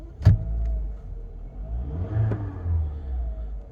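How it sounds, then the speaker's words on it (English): A 2005 Seat Ibiza 1.4 Sport 75PS hatchback engine idles, then gets a short rev that climbs and falls back to idle, close by. "Let me just give it a quick rev for you"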